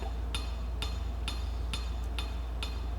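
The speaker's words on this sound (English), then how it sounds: "I'm flipping the bar up over onto the other side so that if my hammer angle is slightly off, I'm centering the blows" A steel bar is hand-forged into a chef's knife with a hammer. Sharp ringing metallic strikes land at an even rhythm, about one every half second, seven blows in all, close and clear over a low steady hum with no talking.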